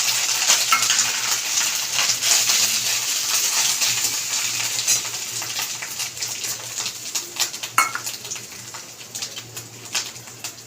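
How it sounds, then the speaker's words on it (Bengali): Shredded coconut is tossed into a hot frying pan and stirred, giving a steady close sizzle broken by scraping and light clattering strokes that grow more sporadic toward the end. "এবারে দিচ্ছি নারকেল কুচি।"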